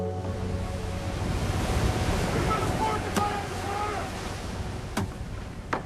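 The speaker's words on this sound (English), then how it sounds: "The sea devours the shore!" Sea surf rolling onto a shore, a steady broad wash of breaking waves with a few sharper splashes, fairly close, under a speaking voice.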